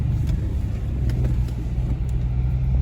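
Lexus GX470 driving off-road, a loud steady engine and tire rumble from inside the cabin with low drone throughout and no talk.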